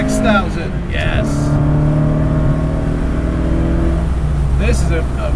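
A resto-mod BMW 2002 engine revs up through the gears from inside the cabin, rising harmonic drone climbing steadily in pitch with brief shift breaks, loud and continuous while someone talks over it.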